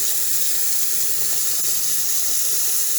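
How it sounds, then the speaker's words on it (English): Water poured down a sneaker during shoe cleaning, a constant close rushing splash of liquid that stays even and loud throughout, with no voices. "pour it down the shoe"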